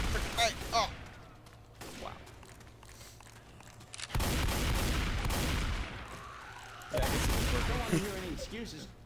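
Gunfire in Left 4 Dead 2 comes as bursts of shots in a chaotic co-op scene, with gaps between volleys. Players talk over the shooting.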